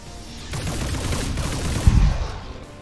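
Gunfire in XCOM 2, a loud, dense burst of rapid shots that rumbles and crackles for a couple of seconds with a heavier blast near the end.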